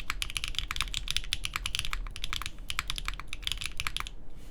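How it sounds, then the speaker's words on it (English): Steady, fast typing on a QK Neo65 Cu copper-bottomed mechanical keyboard, keys bottoming out in a dense run of crisp clacks with a brief pause near the middle, close and loud with no talking. "when you just bottom out when typing normally"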